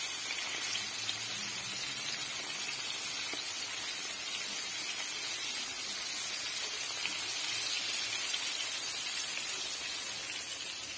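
Bonito fish coated in cornmeal frying in hot oil, a steady, faint sizzling hiss that runs evenly without pause.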